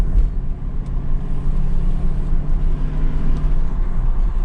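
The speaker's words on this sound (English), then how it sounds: "Acceleration feels good." A 1992 Lexus SC400 V8 coupe accelerates along a highway, its engine a steady low rumble with road and wind noise, heard from inside the cabin and holding loud and even throughout.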